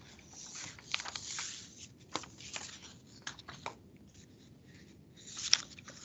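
Papers are shuffled and rustled during a parliamentary sitting while someone searches for a question paper. The sound comes as faint, scattered crisp rustles and flicks over about six seconds, with a slightly sharper rustle near the end.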